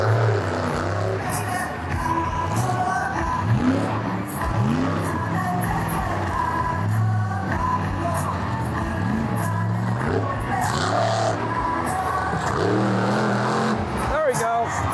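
A monster truck at the 2022 San Bernardino County Fair rally roars loudly as its engine revs and rises in repeated bursts during a wheelie, with a commentator talking excitedly over the engine noise.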